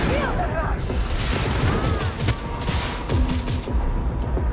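Rapid, loud gunfire from a weapon in the video game Cyberpunk 2077 on PS5 rattles continuously in bursts throughout, with mechanical clatter layered over a dense, booming backdrop.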